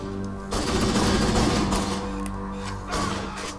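Assault rifle gunfire in the video game Halo rattles in loud, rapid automatic bursts, a long burst followed by a shorter one.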